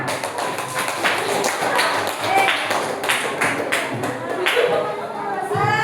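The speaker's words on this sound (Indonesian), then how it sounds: "Tepuk tangan dulu buat kita semua." Schoolchildren in a classroom clap hands together, a loud, busy burst of overlapping claps with a few sharper taps and chatter mixed in.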